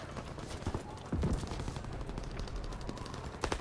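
Gunfire in the World War II shooter Call of Duty WW2, a steady rattle of rapid shots and bursts across a busy battle scene, with a louder burst near the start and another toward the end.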